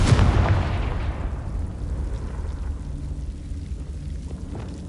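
A Confringo blasting spell in Hogwarts Legacy bursts with one loud, booming blast, its deep rumble slowly fading into a lingering low roar over the next few seconds.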